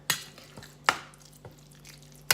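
Food being stirred in a pan to coat it with Worcestershire sauce, heard as a few sharp utensil scrapes and knocks at uneven intervals over a faint background hum, close and quiet, with no talk.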